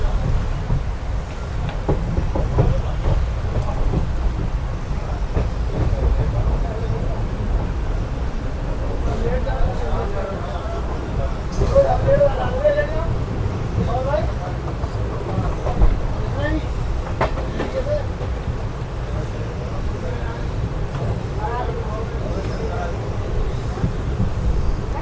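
Inside the Mailani–Pilibhit passenger train between Pooranpur and Pilibhit, a deep, continuous rumble rolls along with faint rattles and clicks from the carriage, while people talk over it throughout.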